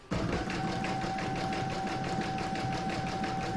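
Embroidery machine stitching an in-the-hoop table topper round, a fast even needle rhythm with steady motor whir, close and continuous without speech.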